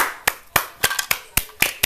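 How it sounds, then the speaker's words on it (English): About eight sharp, evenly spaced hand claps ring out close and loud with no talk over them. "we need a clap"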